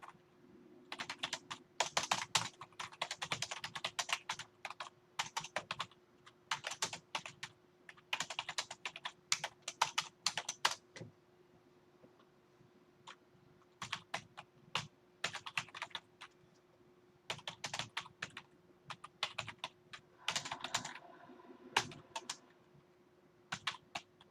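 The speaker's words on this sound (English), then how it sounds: "Now, type your answer here." Soft, quick clatter of typing on a computer keyboard runs in uneven flurries with brief pauses over a faint steady hum, quiet and close, with no talking.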